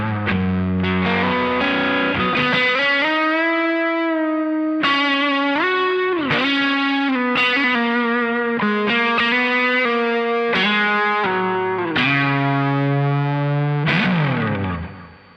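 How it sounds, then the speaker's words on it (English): A loud electric guitar with heavy overdriven distortion from a Morning Glory pedal with a clean boost plays a melodic line of sustained, gritty notes, with no other instruments or voices. "a clean boost to get more of a distortion tone out of the Morning Glory"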